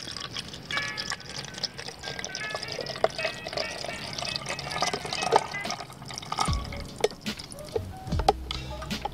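Water poured into the reservoir of a 12-volt coffeemaker, a steady trickling fill with small splashes and drips, followed by a few handling knocks near the end.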